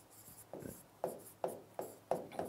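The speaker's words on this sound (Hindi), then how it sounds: "यहाँ मैं लिखता हूँ सीमा" Writing on a classroom board, a few soft rubbing strokes followed by regular tapping strokes about every half second, close but quiet.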